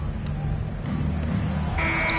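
An end-of-clock buzzer in the NBA 2K26 basketball video game sounds as a sustained electronic tone near the end, rising over a constant background of arena crowd noise.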